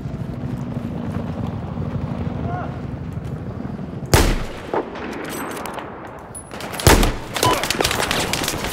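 Machine gun fire in Battlefield 4 comes as two heavy bursts of gunfire over a rumbling, windy battlefield background, loud and close.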